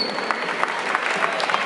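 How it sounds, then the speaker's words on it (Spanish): Audience applause at a cosplay contest, a steady patter of clapping from a crowd that runs evenly through the whole clip. "Fuerte el aplauso."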